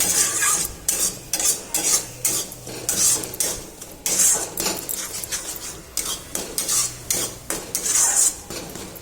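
Egg being stirred and mixed in a pan for egg bhurji, with a rhythmic series of metal spoon scrapes and clinks against the pan over a light sizzle, close and loud, no voices.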